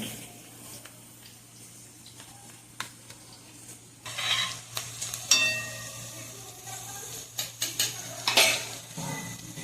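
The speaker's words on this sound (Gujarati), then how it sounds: "મિક્સ કરી લઈએ" A spoon stirs a watery spice mixture of turmeric and garlic-chili in a pan. It is quiet at first, then about midway a run of metallic clinks and scrapes sounds close by in uneven bursts.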